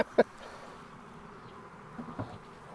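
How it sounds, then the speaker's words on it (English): Agitated honeybees hum in a low, continuous drone during a nuc hive installation, with a couple of sharp knocks and brief louder buzzes nearby. "these bees are getting upset"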